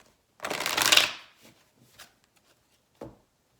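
Tarot cards being shuffled close up: one riffling burst lasting about half a second, followed by a few faint taps and a single short card sound near the end, with quiet gaps between.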